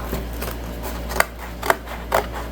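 Scissors snipping through leather-textured paper, three crisp close cuts spaced about half a second apart over a low steady hum, with no voices.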